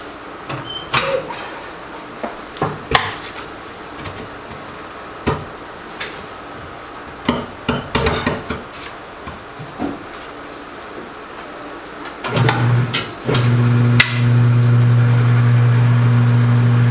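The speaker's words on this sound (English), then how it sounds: "we're going to start the rotate going clockwise, and you'll see the first bead come off the tire" A tire changer machine working on a tire to remove the bead: scattered clanks and knocks from the tools and tire, then the machine's motor starts and runs as a loud, steady hum to the end.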